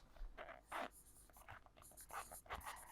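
Someone writes a word on a board in short, scratchy strokes: brief bursts of friction with small pauses between them, close and fairly quiet.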